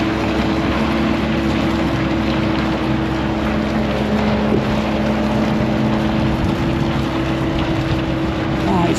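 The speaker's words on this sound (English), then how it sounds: "Ah, it's windy and cold up" Wind blows steadily on a cold, windy rooftop, a constant broadband rush with microphone buffeting and a low hum underneath, no talk.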